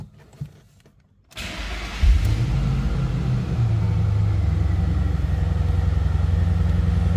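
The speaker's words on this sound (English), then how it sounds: "Let's fire it up so you can hear it run too." The supercharged engine of a 2007 Ford Mustang Saleen S281 cranks on a cold start and catches after a brief quiet stretch, then settles into a loud, deep, steady idle rumble close by.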